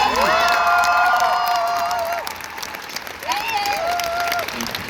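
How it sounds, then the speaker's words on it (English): Convention audience at a ccxp Cologne panel applauds with a dense, steady clapping wash, while a person speaks over it and bright sliding tones weave through the crowd noise. "And a big round of applause for this lovely lady."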